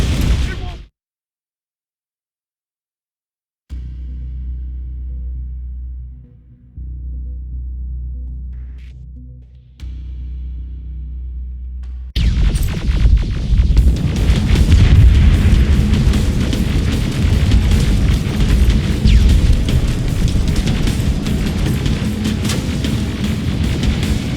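Rocket explosions and combat in the video game Terminator: Resistance: a low steady hum gives way to a loud, dense stretch of booming blasts and rumbling bursts that continues to the end.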